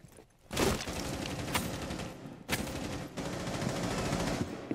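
Loud, sustained bursts of rapid gunfire in Tom Clancy's Rainbow Six Siege, with heavy shots and brief pauses between the volleys and no voices.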